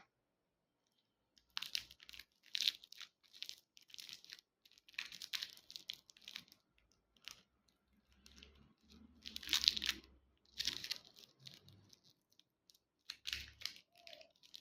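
A plastic wrapper crinkles and tears off a whistle-shaped Sicilian friscaletto lollipop in bursts of crisp rustling and crunching, close and fairly quiet, with pauses between.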